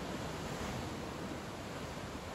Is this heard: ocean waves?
yes